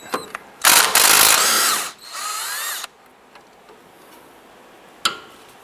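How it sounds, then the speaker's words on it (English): A wrench ratchets loose a 14mm sway bar end link nut on a 2007-2012 Nissan Versa, giving a loud close whirring burst, a second softer run, then quiet with one sharp click. "we're going to put our wrench on that and loosen and remove this nut"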